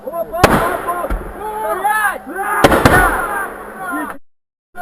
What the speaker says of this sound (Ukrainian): Група чоловіків відкриває вогонь.